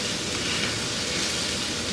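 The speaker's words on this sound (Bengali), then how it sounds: "রসুনগুলা কিন্তু সামান্য ঠুসঠাস করে ফুটবে, অসুবিধা নাই" Chopped garlic frying in hot oil gives a steady, even sizzling hiss that runs unbroken for the full two seconds, close and moderately loud, with no one talking.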